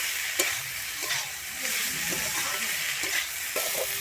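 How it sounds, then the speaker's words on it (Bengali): Khesari greens with beans, coconut and peanuts stir-fried in a village kitchen: a steady sizzle with scraping stirs and clinks recurring every second or so, close and continuous, with no talking. "আমি কিন্তু নারকোল আর বাদামটা খুব ভালোভাবে এখানে মিশিয়ে নিয়েছি আমার শাকটাও কিন্তু ভাজা হয়ে গেছে"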